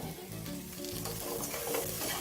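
Goat ribs sizzle and fry in a lightly oiled pan, a continuous crackling hiss at low volume with faint stirring, no voices.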